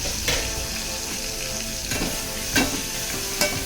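Chopped tomato and green chillies fry in spices with coriander powder, giving a loud, close, continuous sizzle and a few soft stirring knocks against the pan.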